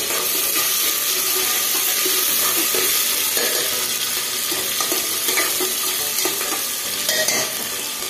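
Onion, green chilies, peanuts and curry leaves fry in hot oil for a spiced dry-fruit rice, giving a loud, steady sizzle close up, broken by the scrape and clatter of a spoon stirring through the pan.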